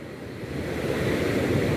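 Surf rolls in on the beach at Praia da Ferrugem, a steady, broad wash of breaking waves with some wind noise, building slightly in loudness.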